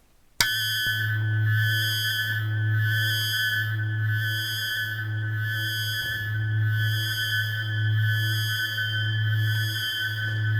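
The Mystic FM drone synth holds a sustained, tonal drone through Lexicon hall reverb, with a low steady hum and bright upper partials that pulse in a slow, even rhythm, starting abruptly and continuing alone at steady volume.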